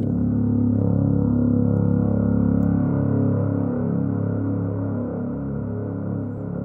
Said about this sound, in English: this is like a horn sample that I put a bunch of reverb on